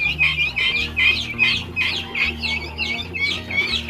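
Guinea fowl chicks chirp and peep continuously in a close, busy chorus of high overlapping calls, with a low hum running underneath and no voices.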